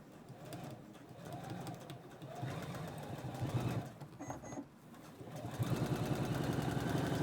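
Sewing machine stitching fabric in a sewing shop demonstration: a steady mechanical whirring hum that runs in bursts, near and moderately loud, swelling into a continuous run at the end, with a voice talking over parts of it.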